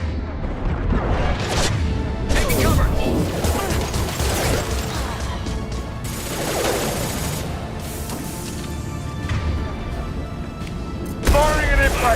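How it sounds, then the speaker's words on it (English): Impact shot fired in the sci-fi shooter game Mass Effect 2, heavy booming blasts amid continuous combat noise and mechanical clatter, with a louder burst near the end. "Firing an impact shot."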